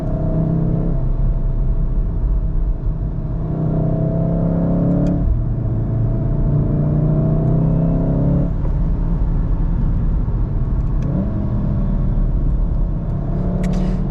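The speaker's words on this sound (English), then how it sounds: "the car produces this characteristic rumble" A four-cylinder 2014-2019 Volkswagen Golf 7 R engine rumbles steadily while driving, with a low throaty drone that rises and falls as the revs shift, heard from inside the vehicle.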